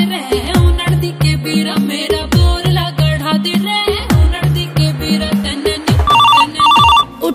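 A telephone ringtone plays loudly as a punchy melodic tune, then breaks into rapid trilling ring bursts near the end, with no talking over it.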